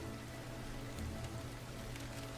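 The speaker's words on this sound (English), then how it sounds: "it's been raining good all day long today" Steady rain falling on a farm in the video game Farmer's Dynasty, a constant soft hiss of droplets with no voices, fairly quiet and even throughout.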